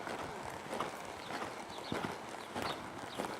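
Hoofbeats of a horse loping with long forward reach, a steady rhythmic clip-clop of footfalls over a constant outdoor background, fairly close.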